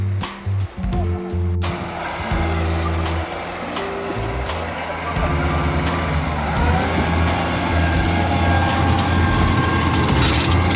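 A Kubota GT3 20 hp tractor drives a rotary tiller through a cornfield, its engine a steady low rumble with clattering, churning mechanical noise that grows louder and rougher partway through.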